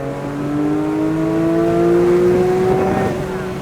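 A Porsche 911 GT3 accelerates hard on a closed track course, its engine note climbing steadily in pitch over a few seconds, loud and close with no other sounds.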